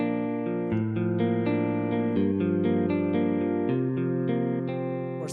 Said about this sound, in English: if it was dry, it would sound just like this